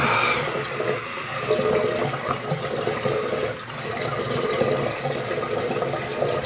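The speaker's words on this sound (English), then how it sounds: "Added a good bit of water to this lather." Water splashes and trickles steadily into a shaving soap lather, a close, continuous wash of liquid sound with no voices.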